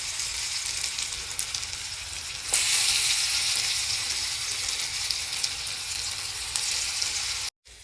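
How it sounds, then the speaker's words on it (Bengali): Onions frying in oil alongside potato chops, a loud, bright, steady sizzle close up that swells when more is added, then cuts out abruptly near the end. "এই যে এখানে পেঁয়াজও ভাজা হচ্ছে"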